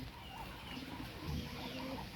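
Pakistani high-flyer pigeons, a Maya pigeon among them, give soft low coos, faint and steady against a constant background hiss.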